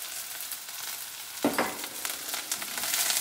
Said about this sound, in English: You can hear that sizzling. That sizzling is what stir fry is.